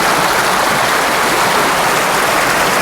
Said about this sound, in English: And now the softness of the river is passing by